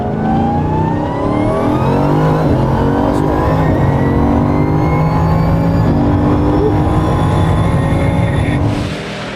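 An extreme car is driven hard, its engine revving loudly and continuously up and down through the gears, close and dominant for several seconds before easing off at the end.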